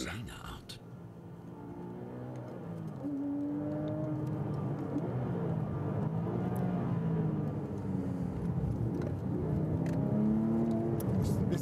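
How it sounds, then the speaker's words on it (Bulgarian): A Porsche GT3 sports car driven fast, its engine holding a loud, steady drone with a wavering pitch that rises and falls throughout, close and continuous. "Герт Брайтфорд използва GT3 въпреки това, но по свой начин."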